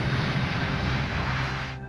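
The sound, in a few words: airplane taking off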